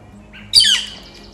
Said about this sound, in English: And this bird over here are having a full-on conversation.